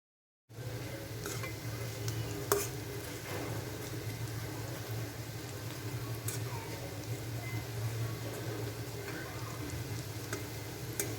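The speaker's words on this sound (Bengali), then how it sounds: "এখন পেঁয়াজগুলো ভেজে নেব" Onions fry in a pan with a steady, even sizzle that starts abruptly and then holds at a constant level, with a low hum beneath it.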